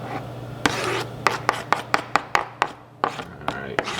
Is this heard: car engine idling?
no